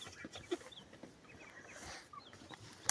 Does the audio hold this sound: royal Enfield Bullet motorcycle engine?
no